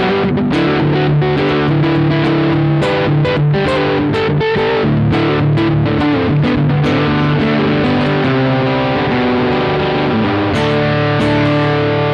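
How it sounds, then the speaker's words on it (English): Acoustic guitar strummed and picked through a distortion pedal, a loud continuous gritty sustained tone with rhythmic chord attacks for the whole stretch, close and dense with no feedback. "this is the only pedal I've ever seen that adds distortion to an acoustic that does not grotesquely feedback"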